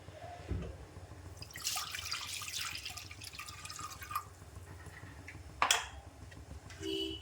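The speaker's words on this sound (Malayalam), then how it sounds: "അതിലേക്ക് കുറച്ച് വെള്ളം നമുക്ക് ആദ്യം തന്നെ ഒഴിക്കാം" Water is poured into a clay cooking pot set on a stove, giving a few seconds of soft splashing and trickling with a couple of small drips and clinks. No one speaks.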